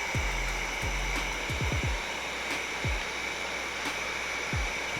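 A heat gun heats and shrinks window tint film, producing a steady, close blowing hiss with a high whine, broken by several soft low thumps as the film is handled.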